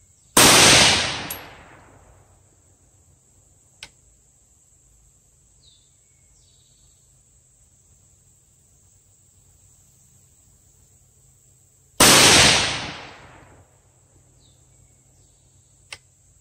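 Two sharp rifle shots from an 18-inch 6.5 Grendel upper fired at a 110-yard target, each a loud crack with a decaying tail, about twelve seconds apart, with quiet outdoor ambience between.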